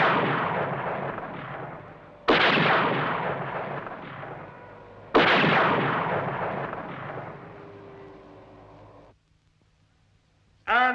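Cartoon gunfire aimed at a flying machine, three loud booming blasts spaced a few seconds apart, each fading into a long rumbling decay, followed by near silence and a sudden burst at the end.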